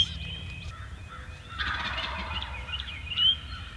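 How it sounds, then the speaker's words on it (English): A wild turkey up on a hillside lets out one rattling gobble partway through, heard at middle distance outdoors, with faint chirps from other birds around it. "That's a bird that was up on the hill. He gobbles like a man."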